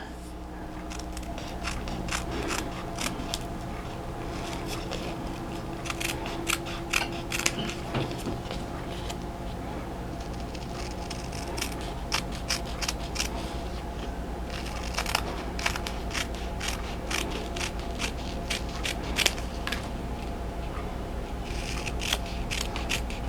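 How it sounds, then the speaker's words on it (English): Small sewing scissors snip close around the threads of a glittered embroidered patch, giving a run of quick, crisp clicks and cuts over a steady low hum, near and fairly quiet. "I'll get one of these smaller pairs of sewing scissors"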